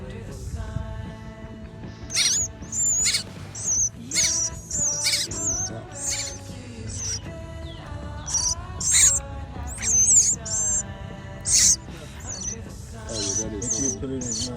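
A mother bird gives high, sharp chirping calls in short bursts near baby birds that fell from their nest. Low background rumble and handling noise run underneath. Voices are faint or absent.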